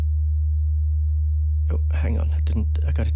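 A steady low pure hum of a sine test tone runs throughout, with a person talking over it in the second half.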